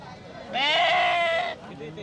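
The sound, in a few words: sheep bleating at Sangola sheep market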